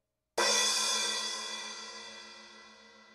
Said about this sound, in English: So here's the splash.